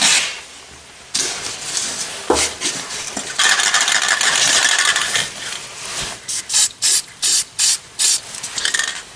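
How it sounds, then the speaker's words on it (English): Bursts of aerosol spray hiss close up as rust check paint is sprayed into a rusted car body panel, a long steady blast followed by a run of short, evenly spaced squirts. "I'm going to spray that rock guard stuff in here"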